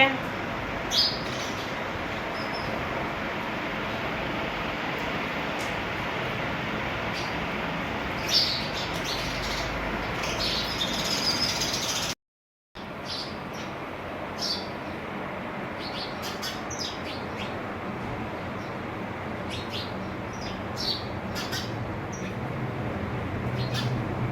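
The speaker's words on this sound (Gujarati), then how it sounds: "અત્યારમાં ચકલા એના કલબલાટ કરવા માંડ્યા છે" A flock of house sparrows chirps continuously in busy, overlapping chatter, with a brief moment of silence partway through.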